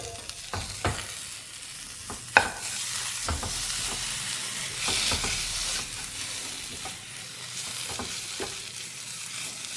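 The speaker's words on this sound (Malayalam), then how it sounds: "തക്കാളി നന്നായിട്ടൊന്ന് വാടി കുഴഞ്ഞു വരുന്നത് വരെ നമുക്ക് നന്നായിട്ടൊന്ന് ഇളക്കി കൊടുക്കേണ്ടതുണ്ട്." Tomatoes frying in a crab masala are stirred in a sizzling pan, with a steady, close hiss punctuated by repeated sharp scrapes and taps of the spoon against the pan.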